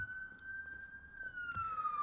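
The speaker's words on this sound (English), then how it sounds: "There's another siren." An emergency vehicle siren wails faintly in the distance as a single steady tone that slowly drifts lower, with a little background noise and no speech.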